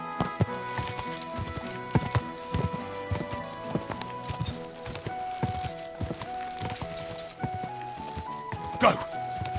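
Horse hooves clip-clop in a steady, regular rhythm on a hard surface, fairly close, with a voice and other background sound underneath.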